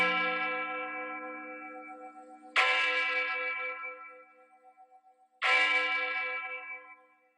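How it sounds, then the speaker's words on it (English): A church bell tolls for a death, three slow, resonant strikes with long ringing decays that fade between each blow, heard alone without voices. "Dismal bell tolls out for death."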